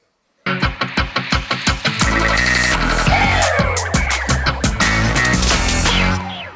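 Plucked guitar over a heavy booming trap beat with deep synth bass, punchy drum hits driving a steady rhythm, loud and close.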